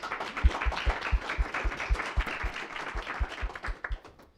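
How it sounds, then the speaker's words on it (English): Audience applause at a workshop, a steady run of claps from a small crowd that fills the whole stretch, fairly close and without talk over it. "I think we can also give him a round of applause."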